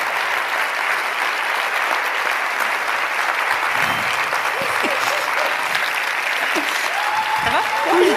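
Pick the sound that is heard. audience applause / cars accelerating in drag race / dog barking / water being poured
audience applause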